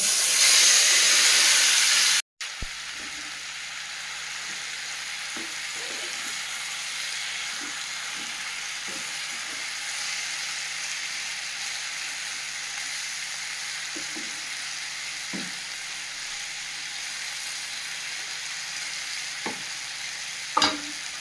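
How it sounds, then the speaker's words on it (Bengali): Marinated fish and potato frying in oil in a pan, a loud sizzle and hiss at first that quickly drops to a steady, quieter crackle with occasional stirring clinks. "এবার মাখিয়ে রাখা মাছ আর আলুটা দিয়ে দেব।"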